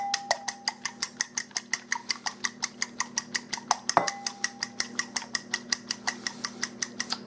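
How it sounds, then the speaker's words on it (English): Two egg whites are beaten to a froth in a bowl, giving a fast, even series of sharp rhythmic taps and clicks, about four per second, close and steady, with one louder knock midway. "I'm going to beat them till they're frothy"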